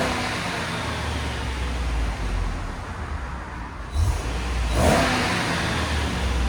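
A 2016 RAM 2500 with a 6.4L HEMI V8 idles with a steady, fairly loud rumble, then gets two short revs near the end, the second one swelling higher and longer before it drops back.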